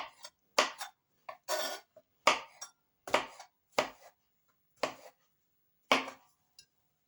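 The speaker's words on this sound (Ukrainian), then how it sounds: "Ось нарізала з такими пластівцями грибочки" Knife slicing mushrooms into thin flakes on a cutting board, crisp separate chops spaced roughly a second apart, close and clear with quiet between strokes.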